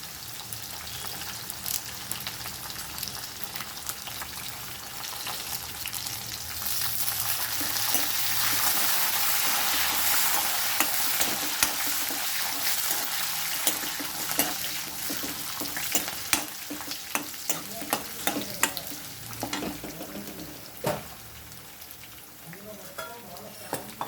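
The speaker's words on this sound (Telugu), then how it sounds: "పచ్చిమిరపకాయలు వేసుకొని కరివేపాకు కూడా వేసుకోవాలి" Green chillies and curry leaves hiss and crackle as they hit hot oil with roasted peanuts for an evening snack, the sizzle swelling midway, then scattered scraping stirs and clinks close by.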